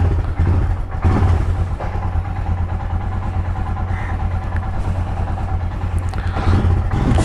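A Royal Enfield Himalayan motorcycle engine runs steadily at the start of a ride, a loud, close, continuous low rumble with no one talking over it.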